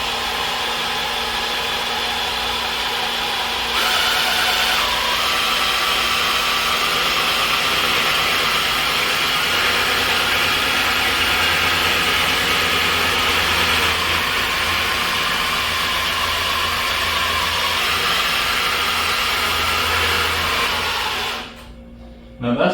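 A Big Blue motorcycle lift slowly lowers a bike with a steady, loud whooshing whir that runs for about twenty seconds, then cuts off with a brief clunk at the end.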